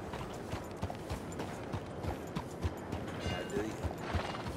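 Horse hooves clip-clop steadily in Red Dead Redemption 2 within the game's Saint Denis city area, a rhythmic series of moderately loud hoof strikes under background town ambience and intermittent game dialogue.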